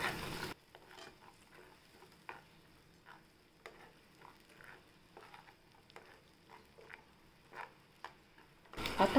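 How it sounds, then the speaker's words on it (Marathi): A ground onion, garlic, tomato and ginger paste sautés in oil, heard as a faint low sizzle broken by soft, irregular stirring scrapes and ticks, with louder bursts at the start and end. "आपण याच्यात कांदा, लसूण, टोमॅटो आणि आलं हे वाटून घेतली, ते आपण तेलात टाकूया।"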